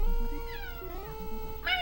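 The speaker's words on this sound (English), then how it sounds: "There is a cat here" A cat meows as a viewer-redeemed stream alert, sounding over steady background music with a brighter burst near the end.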